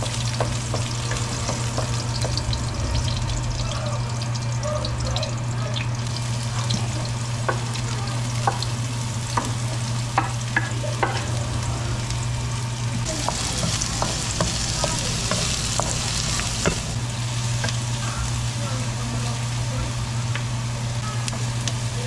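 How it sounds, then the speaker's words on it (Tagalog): Garlic and onion sautéing in a pan with ginger for pork dinuguan, a steady sizzle and frying crackle with repeated scraping stirs and clinks throughout, moderately close, with a constant low hum underneath. "Gisa ko na yun. Ilalagyan ko ng luya para dagdag sa bango."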